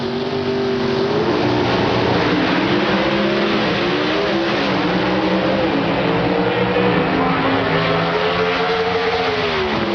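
Pro stock drag racing at the 1994 NHRA Gatornationals, with Pontiac Firebird cars: a loud, continuous, close engine roar that rises and shifts in pitch as the cars accelerate down the strip, with no talk over it.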